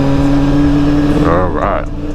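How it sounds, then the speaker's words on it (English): Honda CBR600RR motorcycle engine (2020) rising in pitch as the throttle opens, a loud steady drone climbing over about two seconds with a rider talking over it. "I am going to give it some throttle just to get down there."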